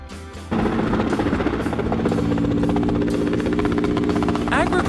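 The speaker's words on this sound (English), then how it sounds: "Agricultural helicopter, farming helicopter." An agricultural helicopter engine suddenly rises into a loud, steady buzzing drone with rapid rotor chop, continuing without pause.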